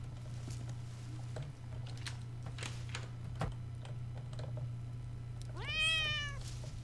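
A cat in the Monaco: What's Yours is Mine video game gives a single clear rising meow near the end, heard over a steady low hum and scattered light ticking sounds.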